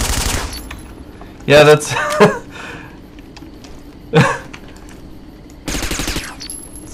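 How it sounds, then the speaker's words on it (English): Gunfire in a Halloween wargame video game: a few sharp, loud bursts of shots spaced apart across the clip, with a person speaking briefly between them. "Did you just fire? Because I heard gunfire."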